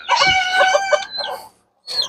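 Chickens cluck and squawk in a short, close burst of calls, fall silent for a moment, then start up again.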